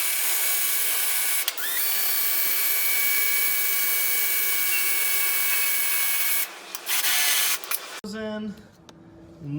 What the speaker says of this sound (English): we're going to drill these pilot holes